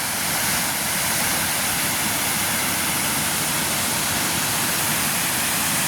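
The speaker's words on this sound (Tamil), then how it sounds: "வான் கதவுகளெல்லாம் பாஞ்சு கொண்டிருக்கு பாருங்கள்" Floodwater after heavy rain rushes through reservoir spill gates in a village, a dense, loud, continuous roar that fills the whole clip with no voices.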